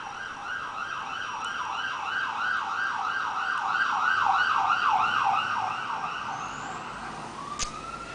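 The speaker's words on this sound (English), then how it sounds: "it sounds like there's a police car approaching" A wailing siren rises and falls steadily, growing louder as it nears, with faint road traffic underneath.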